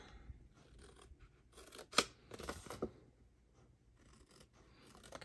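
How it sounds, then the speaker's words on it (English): Scissors snip score lines along the bottom of a paper treat bag, a few faint, quick cuts clustered near the middle amid quiet handling. "along the bottom, you want to just snip these score lines"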